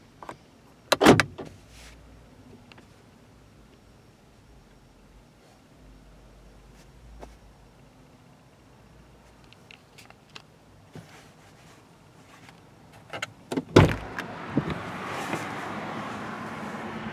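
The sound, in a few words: 2016 Jeep Wrangler Unlimited Sahara power door locks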